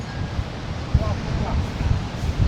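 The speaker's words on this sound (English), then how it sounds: "Bloody windy, mate." Very strong wind buffeting the microphone at Legian Beach, a rough continuous roar with gusty thumps, with faint surf and a brief voice in the background.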